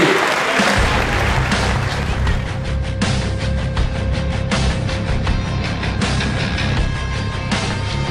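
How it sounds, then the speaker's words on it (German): Audience applause after a match, dense continuous clapping and crowd noise that fills the whole stretch at fairly high level, with some voices mixed in. "Applaus für ihn"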